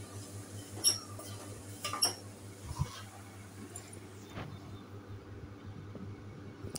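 Chopped tomatoes being mixed into an ivy gourd curry in a pan, with a few sharp metallic clinks of a spoon against the pan over a low steady hum, fairly quiet.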